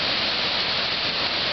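Tunkhannock Creek, flooded after three straight days of rain, rushes as a loud continuous broadband roar of heavy water, steady throughout with no voices.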